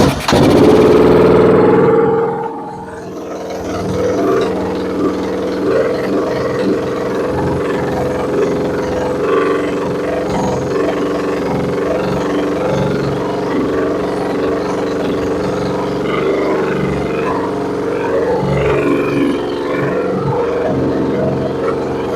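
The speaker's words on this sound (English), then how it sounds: "I'm gonna turn the choke back on and see what it does." A Yamaha XT600 single-cylinder motorcycle with its choke on starts up with a loud roaring rev, then settles into a steady, rough, throbbing fast idle close by for the rest of the run.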